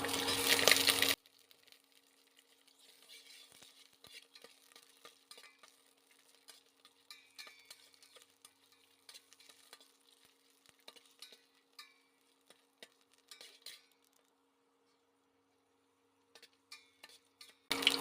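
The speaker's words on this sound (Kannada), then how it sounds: "ಶುಂಠಿ ಫ್ರೈ ಆಗಿದೆ" Ginger and green chillies frying in a pan give off faint, intermittent crackles and light sizzling ticks. The sound is quiet and close, with near-silent stretches and louder bursts at the very start and end.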